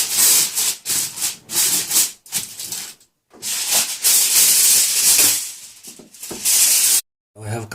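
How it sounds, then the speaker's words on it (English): Aluminum foil is pulled and crinkled over a pot of chicken biryani, loud close rustling and rubbing in repeated bursts separated by short pauses. "Covering this nicely with a foil paper."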